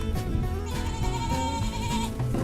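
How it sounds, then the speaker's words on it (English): Goats on a farm near a heifer and goat barn, bleating in several overlapping wavering cries at moderate distance over low background rumble, with no speech. "Got the goats over there."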